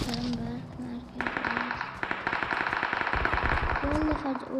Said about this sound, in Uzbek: Otishma bo'lsa ozgina otishma qilamiz.